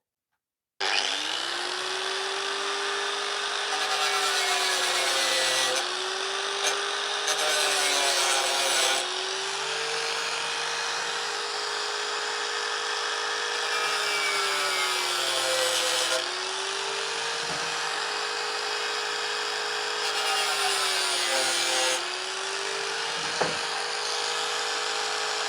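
Steady back-and-forth sawing through wood while cutting the board for a Warré beehive cushion kit, loud and close, running almost continuously with brief pauses in the stroke rhythm.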